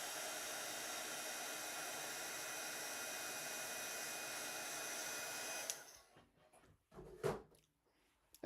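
A heat gun blows with a steady, loud whooshing roar while heat embossing powder on a card, running continuously for several seconds before cutting off, leaving faint handling noises and a couple of short bumps.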